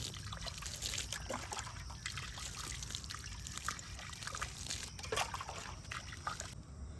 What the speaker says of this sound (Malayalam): ഇതേമാതിരി ഒന്ന് നനച്ചു കൊടുക്കാം.